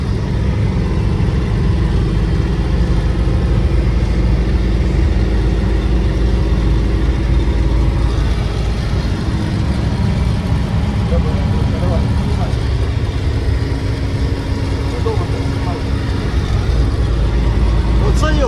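A car engine hums loud and steady from inside the cabin as it gathers speed, with a constant road and engine drone throughout and no talk.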